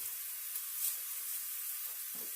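A burger sizzles steadily in a hot pan with salt and pepper seasoning, a dense, close, even hiss that carries on without a break, with a faint thump near the end.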